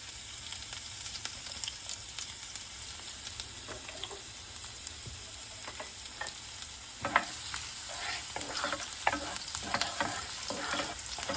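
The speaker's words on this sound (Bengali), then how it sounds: "রসুনটাকে আমরা আস্তে আস্তে ভাজবো, বাট পুড়ে ফেলবো না।" Minced garlic fries gently in oil in a pan, a quiet, even sizzle with faint crackles and occasional light stirring clicks throughout.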